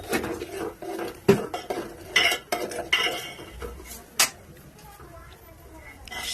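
A spoon stirs tea in a metal pot, giving several sharp clinks and scrapes against the pot, loud and irregular, with some quieter rattling between them.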